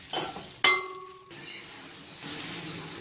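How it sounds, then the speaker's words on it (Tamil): Grated coconut sautéed in a pan, a brief metallic clink of a utensil on the pan followed by soft stirring and a low sizzle, close by with no talking. "நல்லா வதக்கிக்கோங்க தேங்காவை."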